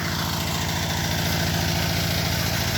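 A 30-year-old Kubota ET80 single-cylinder tractor engine running steadily, a loud, close, rapid even chugging thump with mechanical rattle, continuous and alone.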